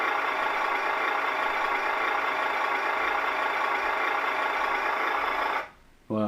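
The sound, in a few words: HG P408 Humvee RC car engine idling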